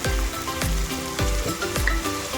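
Onions sizzle and fry in a pan with added salt while gongura rice is prepared, a steady close crackle broken by several periodic stirring scrapes, with no talking.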